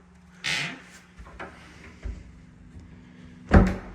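A small storage door set under the roof eaves is opened indoors, giving a soft creak and bump early on, a few light knocks in between, and a sharper wooden thud near the end.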